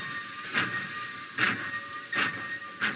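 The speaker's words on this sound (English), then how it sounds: "He watched the black train." A black train departs from a platform in a radio drama, with a steady hissing, chuffing rumble and rhythmic puffs that repeat about every second, heard close and without voices.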